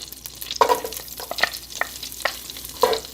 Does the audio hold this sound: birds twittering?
no